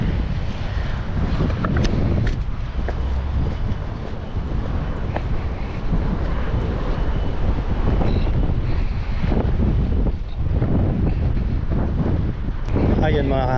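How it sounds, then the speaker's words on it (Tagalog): Strong wind buffets the microphone out at sea during a fishing trip, a constant roaring rumble with gusty surges, with waves and water noise beneath it. "Lakas ang hangin."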